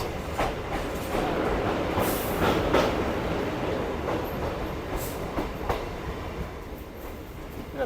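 Continuous rumble of a Kolkata circular railway train rolling along the tracks, with steady rhythmic clicks and a few high wheel squeaks over the roar.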